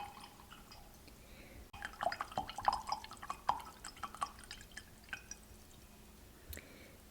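Water drips and trickles in small irregular droplets as a watercolor brush is wetted, soft and close in a quiet room, with no talking.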